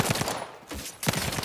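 Gunfire in The Outer Worlds 2 video game, a burst of several rapid shots up front, a brief lull, then another loud volley near the end, with no talking.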